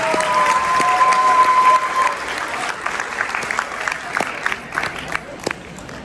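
An audience at a university student theater event applauding the arriving chief guest, a loud, dense burst of clapping that thins into scattered claps toward the end, with a brief tone and some voices mixed in.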